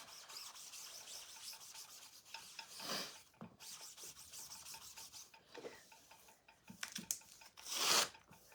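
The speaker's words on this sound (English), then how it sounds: "get our board eraser, wring it out, it's wet, clean it up" Wet board eraser wiped across a work surface during cleanup, a soft rubbing and scrubbing with a few stronger swipes near the start and a loud final stroke at the end, heard close and alone.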